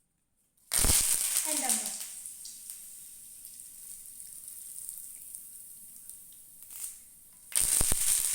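Curry leaves dropped into hot oil for a ladies finger fry crackle and sizzle loudly at first, then settle into a steady hiss, with a voice speaking briefly over it and another loud sputter near the end.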